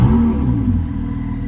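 A 2017 Ferrari 488 GTB engine fires up with a brief deep rumble and a short rising rev that settles and fades within a second or two, heard close and loud.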